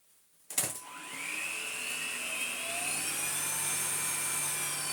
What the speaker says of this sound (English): we'll try and do some vacuuming with it now